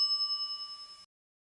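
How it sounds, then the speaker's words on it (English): Service counter bell in The Secret of Monkey Island struck once, a bright close ding ringing with a pulsing shimmer for about a second before cutting off to silence. "some idiot's already ringing that stupid bell"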